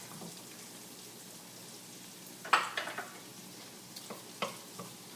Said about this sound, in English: so sautéing the potato. I'm going to add the carrots.